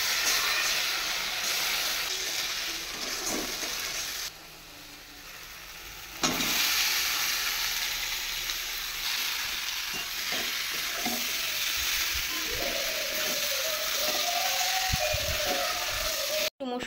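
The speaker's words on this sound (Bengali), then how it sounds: "এই যে এখন আলুটাকেও একটু ভেজে নিচ্ছি" Potatoes fry in a pan with a loud, steady hiss and sizzle that drops briefly before surging back, with occasional stirring scrapes and a clatter at the end.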